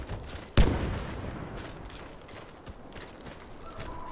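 A single loud, close gunshot cracks in the video game Warface, followed by quieter scattered shots and faint game ambience.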